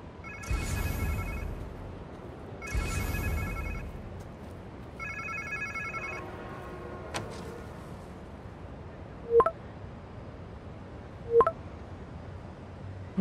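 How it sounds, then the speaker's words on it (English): A phone rings in Marvel's Spider-Man 2 on PS5: three bursts of an electronic trill, then a fading tone and two sharp clicks, heard alone over a low ambient hum. "Sounds like somebody's phone."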